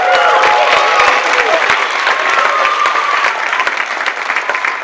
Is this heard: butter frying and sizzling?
no